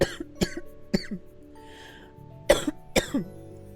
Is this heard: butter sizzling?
no